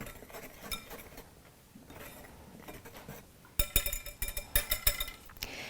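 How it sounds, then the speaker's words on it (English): Flour, baking soda and salt whisked together in a mixing bowl for apple dumplings, heard as quiet scraping at first, then a run of sharp, rhythmic clinks and taps of the whisk against the bowl, close and fairly loud toward the end. "I'll add 2½ teaspoons of baking soda and ½ teaspoon of salt. I'll whisk that together."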